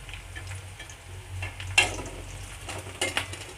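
Green chilies frying in oil in a pan on a gas stove for bhorta, a soft continuous sizzle with a few sharp clinks of a utensil stirring against the pan, fairly quiet and with no voices.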